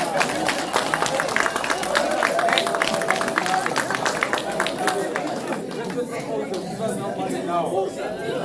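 At a Walvis Bay community meeting on pension preservation, an audience claps hands in a dense, rapid patter for several seconds, with crowd chatter underneath. The clapping thins out into scattered claps and murmuring voices.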